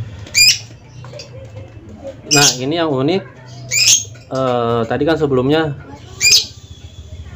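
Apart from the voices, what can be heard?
female jumper bird chirping after being shown the male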